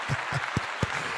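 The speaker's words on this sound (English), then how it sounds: "Hey, man, I got to give you a clap for that one." A few sharp hand claps, four distinct strikes spaced unevenly over about a second, close and fairly loud against a steady background hiss, during a college football postgame talk after Colorado beat Colorado State.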